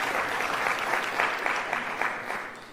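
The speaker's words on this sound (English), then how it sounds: "Let's clap for him." An audience at a graduation ceremony in Nairobi applauds an MC, with steady, dense clapping from many hands throughout, evenly loud with no pauses.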